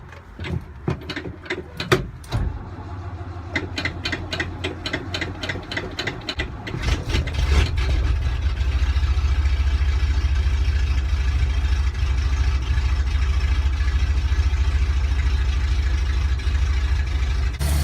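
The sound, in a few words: truck engine starting and idling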